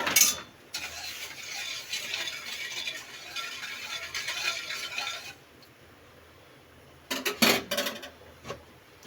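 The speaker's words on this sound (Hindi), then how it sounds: "अच्छी तरह से इसे मिक्स करेंगे" Kunafa ingredients, with sugar just added, being mixed in a bowl: several seconds of steady scraping and stirring, then a pause and a few sharp clinks of a utensil against the bowl near the end.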